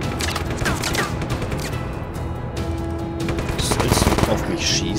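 Enemy gunfire in Just Cause 3, a string of close, sharp shots and bursts that grows heavier toward the end, mixed with other game sounds.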